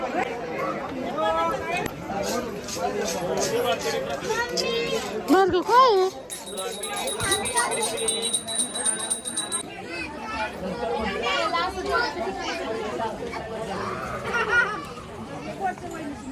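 Busy crowd chatter on the climb at Jejuri fort, many voices babbling with children's voices mixed in, steady and close throughout, with a nearby person also talking over it.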